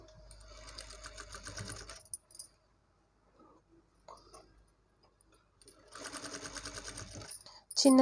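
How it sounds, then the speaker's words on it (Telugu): A sewing machine stitches a blouse back neck in two bursts of rapid, even mechanical whirring, separated by a quiet pause with small handling clicks and someone speaking. "నేను దీనిపైన డైరెక్ట్ పెట్టి కుడుతున్నానండి."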